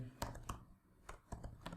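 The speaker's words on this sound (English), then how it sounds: "if I type, let's say console.log" Keystrokes on a computer keyboard while entering code in Visual Studio Code, a series of sharp, close clicks in irregular quick bursts, with short pauses between them.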